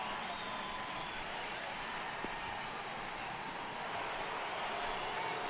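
A video-game crowd at Great American Ballpark in MLB The Show 18 gives a steady, distant roar and clapping ambience for a home Reds crowd, low and continuous without clear peaks.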